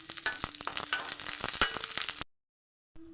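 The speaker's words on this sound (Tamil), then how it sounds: "எண்ணெய் சூடானதும் நாலு மிளகாய் சேர்த்துடலாம் அடுத்து அஞ்சு பூண்டு சேர்த்துடலாம்" Four chilies and five garlic cloves frying in hot oil in a kadai, a fairly quiet crackling sizzle with several sharp stirring knocks, cutting to silence and then a brief return.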